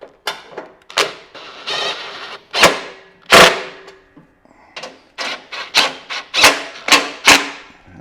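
Bolts, 3/8 size, being snugged down on a lawn mower's belt guard, a run of sharp metallic clicks and taps of a wrench or ratchet in quick irregular bursts, close and loud, with no talk.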